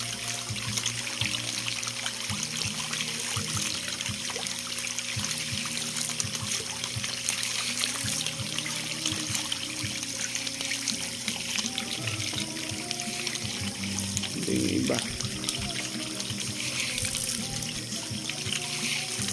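Water pours steadily into a concrete tilapia pond on a fish farm, a continuous loud rushing and splashing throughout, with a brief spoken phrase over it.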